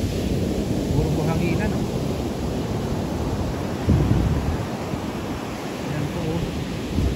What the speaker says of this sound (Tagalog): Yun nga lang, malaking alon.